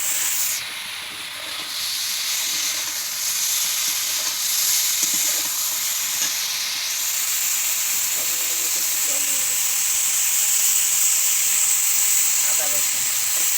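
Eggplant and potatoes frying in a pan of oil, a loud continuous sizzle and hiss with occasional stirring scrapes and clinks, and a voice talking over the cooking.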